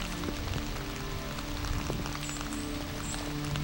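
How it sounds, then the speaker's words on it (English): Heavy rain pours down steadily during a caribou hunt in Quebec, a dense, continuous hiss of drops on surfaces with no break, loud and close throughout. "it's pouring down rain. I mean, just crazy rain."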